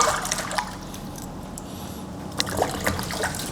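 A scraped carrot is washed under running water, giving a soft trickle with small splashes and drips nearby. The sound is fairly faint and there is no speech.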